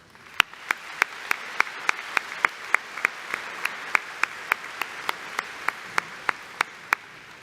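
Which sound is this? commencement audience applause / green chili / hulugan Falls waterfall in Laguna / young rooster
commencement audience applause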